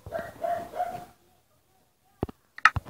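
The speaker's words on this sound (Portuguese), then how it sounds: "começou a latir esse cachorro" A dog barks outdoors: a few short, sharp barks at a distance, following a stretch of talk and a pause.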